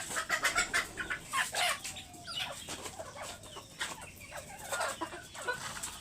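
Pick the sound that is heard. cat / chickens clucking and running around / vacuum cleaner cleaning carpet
chickens clucking and running around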